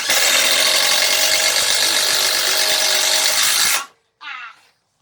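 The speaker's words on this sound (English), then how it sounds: "Makita first. Makita. Ready? Ready, set, go." A Makita impact driver drives a screw in one loud, continuous burst of rapid hammering clatter that stops abruptly, followed by a short, quieter rattle.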